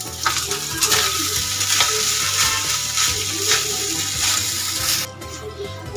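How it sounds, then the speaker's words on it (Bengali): Rice grains with cumin for jeera rice fry in a pan while being stirred, giving a continuous close sizzle broken by repeated scraping stirs, with no talking. "গন্ধ বেরোনো অবধি একটু নাড়াচাড়া করে নেব। এবার আমি হ্যাঁ বাবা, রাইসের চালটা এবার আমি দিয়ে দেবো।"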